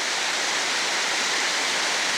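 Lower Gunbrook Falls pours in a dense, steady roar of rushing water, broad and constant with no breaks and no voices.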